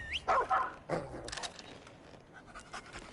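A dog in the video game Remnant 2 gives a couple of short, close barks and yips, then pants softly against faint game ambience.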